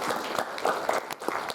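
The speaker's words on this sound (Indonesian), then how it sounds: "Tepuk tangan dulu." An audience at an Indonesian national lecture breaks into dense, sustained applause with many overlapping claps, fairly close and filling the whole moment.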